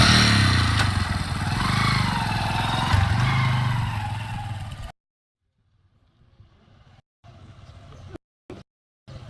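A motorcycle engine drones steadily and loudly during a ride for about five seconds, then cuts off abruptly, leaving near silence broken by brief faint noises.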